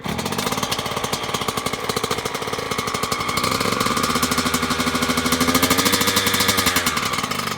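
Yamaha YZ85 dirt bike engine running close by, a loud, rapid two-stroke putter that rises slightly in pitch as throttle is added and holds steady throughout.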